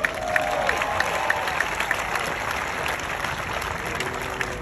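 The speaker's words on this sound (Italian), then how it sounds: "salutiamo con un grande applauso Stefanos Tsitsipas" Tennis crowd at the Rome tournament gives player Stefanos Tsitsipas a warm welcome with steady, sustained clapping, a dense wash of applause that carries evenly to the end.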